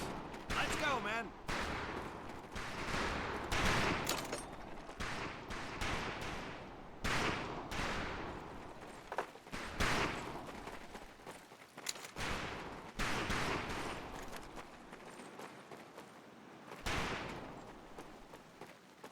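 Rifle fire at a Medal of Honor: Pacific Assault shooting range, with rapid repeated gunshots in loose bursts and a few brief pauses, loud and close.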